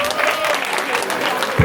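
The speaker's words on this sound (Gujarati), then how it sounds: "તાળી પાડો બધા." A crowd at a Hindu temple in Leicester claps for a little girl's birthday, giving brief, dense applause with a faint voice underneath.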